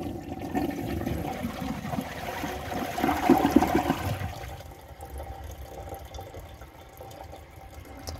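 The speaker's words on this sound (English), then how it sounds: "This toilet does have a fairly short flush" A 2011 Kohler Rialto Ingenium toilet flushes with a short, rushing surge of water that peaks after about three seconds, then gives way to a quieter trickle and refill, heard close with no voices.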